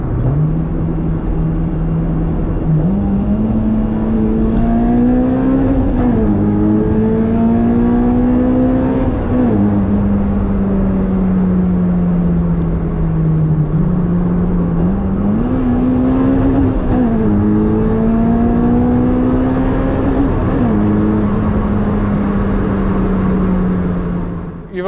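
A Honda Civic EJ6 coupe with a swapped K20 engine drives on the road, its engine note rising and falling through several revving pulls and gear changes, loud and close, with no talk.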